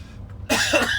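A single sharp cough bursts out after a half-second of near quiet, close and fairly loud.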